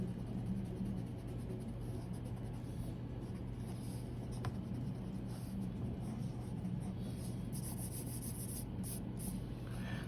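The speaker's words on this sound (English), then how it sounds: "I'm just going to round them off and erase all my extra guidelines" Pencil on paper drawing and erasing guidelines for a treehouse sketch: a steady, soft, continuous scratchy rubbing held close and faint throughout, with no pauses.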